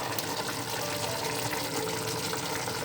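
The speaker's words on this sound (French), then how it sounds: "Donc, je vais rajouter de l'eau à hauteur de la viande." Water is poured into a pot of veal tajine with white beans and turnips, a steady close splashing gush lasting the whole time with no talk.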